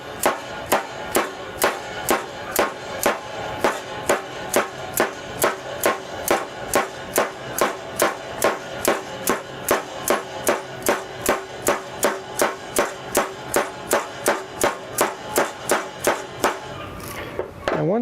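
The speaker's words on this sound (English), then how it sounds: "I may have to get a more solid surface to tap on, but it will go in there." Steady metal-on-metal hammer taps drive a bearing into a John Deere mower deck, about two strikes per second, close and sharp, continuing evenly with no talk.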